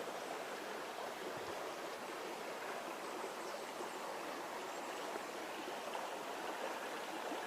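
A small, shallow stream trickles beside a narrow bridge in a Mediterranean countryside in March, a continuous soft rushing wash of water with no voices.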